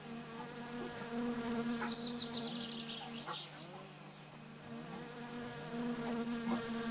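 A steady insect buzz drones on inside a car in the video game My Summer Car, with a higher whining tone rising and falling over a constant low hum.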